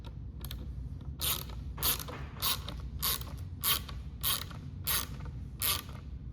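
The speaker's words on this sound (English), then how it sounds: "You can feel the bolts start to get tighter and harder to turn." Bolts on a Riversmith quick release mount are tightened with a ratchet, giving a steady series of about nine evenly spaced ratcheting clicks, close and clear with no talk.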